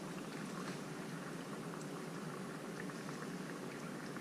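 Dry ice bubbles steadily in water, a continuous soft fizzing and burbling of many small bubbles, close and fairly quiet, with no voices.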